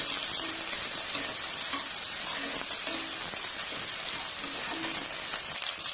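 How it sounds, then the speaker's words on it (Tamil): Chopped onion fries in a pressure cooker for mutton curry, making a steady, loud, close sizzle with a few faint stirring scrapes and no talking. "நல்லா வதக்கி விட்டுக்கோங்க."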